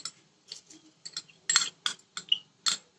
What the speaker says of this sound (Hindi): इसको अब धीरे धीरे चलाते रहेंगे